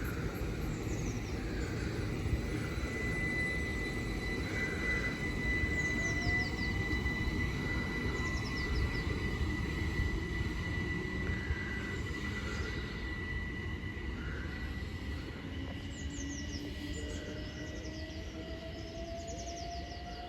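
An electric Class 375 passenger train rumbles past Headcorn station steadily and loudly, wheels grinding on the rails, with faint high squeals and a long whistling tone over the roar.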